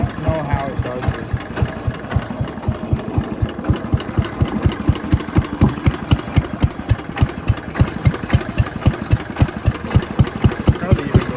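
The engine of a Mity Kat bulldozer idles with a steady, rapid chugging pulse, close and fairly loud.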